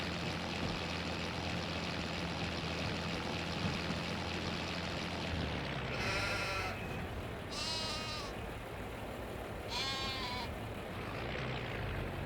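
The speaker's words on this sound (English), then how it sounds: "let's just unload the sheep" Sheep in Farming Simulator 25 bleat three times in short, clear calls over a steady low engine-like drone, fairly close and distinct.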